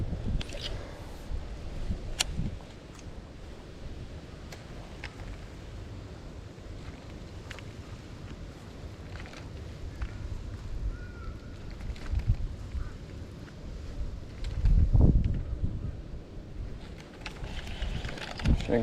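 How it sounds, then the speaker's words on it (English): Strong wind gusts buffet an outdoor lakeside bank, a steady rushing roar with heavier low buffeting around the middle and near the end, no speech. "Wind's blowing hard."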